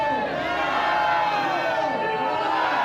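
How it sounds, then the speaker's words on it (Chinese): Worshippers raise a loud, continuous crowd roar of mingled voices and cheers at the rededication and enthronement ceremony of Changhua's 288-year-old Nanyao Temple after its restoration. "信众大声欢呼"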